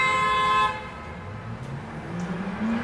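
A car horn honks loudly on a city street for about half a second, then cuts off, leaving low traffic rumble and a faint passing vehicle.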